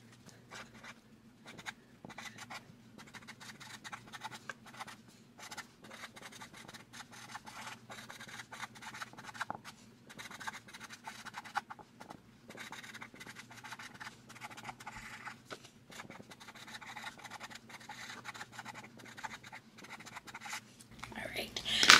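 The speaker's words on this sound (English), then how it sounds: "So let me write a note really quick." Quiet, close scratching of a pen writing a quick handwritten note, with choppy strokes and brief gaps over a faint hum, growing a little louder toward the end.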